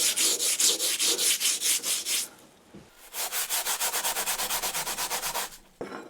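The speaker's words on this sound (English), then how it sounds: "the mill scale is just wiping off" A scourer rubs mill scale off homemade metal brackets in quick, regular back-and-forth strokes, a close scratchy rasp that pauses briefly midway and then resumes at a similar steady pace.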